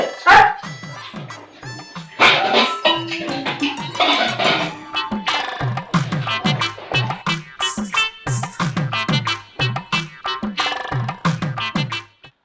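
Dogs bark over and over in quick, loud bursts, several animals yapping almost without pause until it cuts off abruptly at the end.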